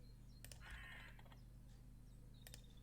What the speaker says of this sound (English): Bye-bye, crow.